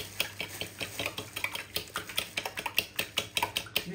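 Utensil stirring a batter-like mixture with added vanilla sugar in a bowl, a quick steady run of scraping, clinking strokes, close and fairly loud, with no talking.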